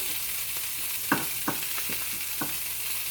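Sausage and lentil stew simmers in a pan with a soft, steady sizzle, broken by a few clinks and scrapes of stirring.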